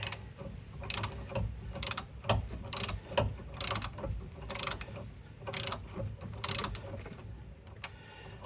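A ratchet wrench clicks in repeated bursts while loosening a 19 mm bolt on a car's steering relay rod, close and fairly quiet, with short pauses between each run of ticking strokes.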